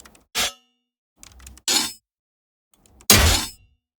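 Three separate dirty, rough scrape-like metallic hits for an aggressive blade weapon, each a short gritty burst with a brief lead-in, the last one loudest and fullest, heard alone with silence between.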